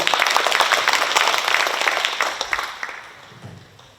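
Conference audience at a San Francisco women-in-AI event gives loud, close applause welcoming a speaker, a dense burst of clapping that gradually thins and fades.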